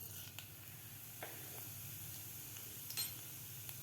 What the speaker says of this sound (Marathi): कढईमध्ये मी 2 चमचे तेल घातलेलं आहे. यामध्ये घालायचे आहेत आपल्याला अर्धा चमचा जिरे.